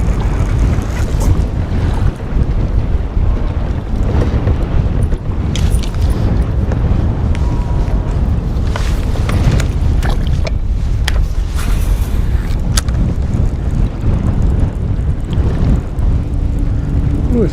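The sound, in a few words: wind blowing on open lake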